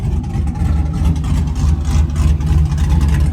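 A Chevy burnout truck engine runs with its exhaust cut off, a loud, raw, rumbling low drone held steady and close throughout with no talk.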